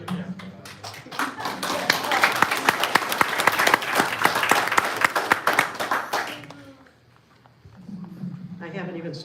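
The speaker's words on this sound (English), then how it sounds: "I haven't even started yet and I get an applause." Audience applause at an after-dinner talent show, many hands clapping loudly and steadily for several seconds before fading out, followed by someone speaking close to the microphone.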